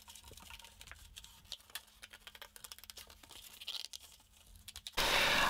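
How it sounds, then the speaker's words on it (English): Scissors snip paper close up to cut out a small fin for a toilet paper submarine, with quick irregular crisp snips and rustles, followed by a sudden loud burst of noise at the end. "Then we're going to cut it out."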